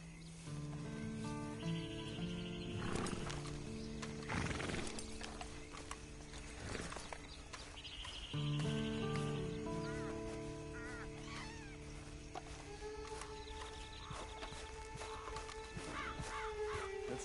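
A horse in a video game clip-clops along at a steady pace, with an occasional whinny and faint game ambience, quiet throughout.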